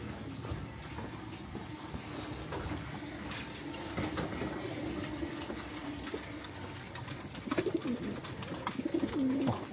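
Pet pigeons kept along a narrow residential alley coo softly in repeated low, throaty phrases against a quiet outdoor background, growing a little more prominent toward the end.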